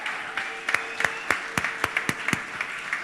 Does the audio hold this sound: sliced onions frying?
no